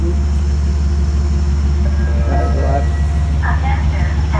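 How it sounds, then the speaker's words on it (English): A Metro-North commuter train at Croton-Harmon station rumbles steadily and loudly throughout, with faint squeal-like tones rising over the continuous rail noise. "that's a 624 train to Croton"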